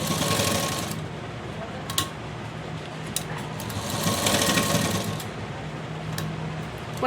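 A sewing machine stitches a loop onto a blouse with a continuous close whirring hum, broken by a few brief clicks and pauses as the fabric is turned. No speech is heard.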